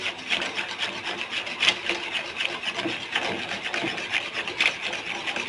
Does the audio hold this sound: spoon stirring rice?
yes